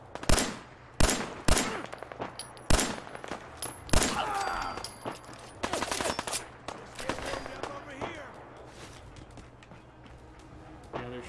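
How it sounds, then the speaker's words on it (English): Gunfire in a shooter video game played on a live stream: sharp, loud single shots in an uneven rhythm, then a rapid automatic burst with game effects. The shots grow fainter and sparser toward the end. "Shooting at me."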